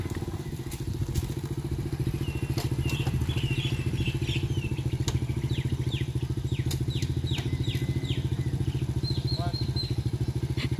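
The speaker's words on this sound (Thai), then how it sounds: "มาลองขับมอเตอร์ไซค์นะอันนี้อยู่ในวัดนะคะนี่โหขับได้ด้วยอ่ะ" A motorcycle engine runs steadily and fairly close on temple grounds, its rapid even putter filling the whole stretch, with faint chirps and clicks scattered above it.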